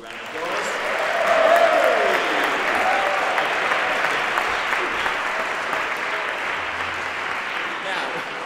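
A theatre audience applauds the first act of the evening, an original song; the clapping swells early, then holds as a dense, sustained round with no voices over it.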